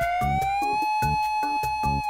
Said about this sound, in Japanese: お化け消防車出動。